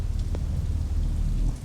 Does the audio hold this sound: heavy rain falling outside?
yes